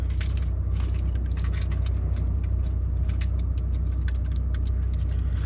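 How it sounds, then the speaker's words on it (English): Volkswagen car keys jangle steadily and close by over the constant low hum of an idling car engine, with no talking. "I'm gonna grab the keys off the thing there."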